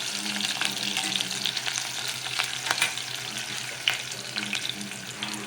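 Onions with cumin and mustard seeds sizzle steadily in hot oil while a spoon stirs and scrapes the pan, with scattered crackles and pops over a continuous frying hiss.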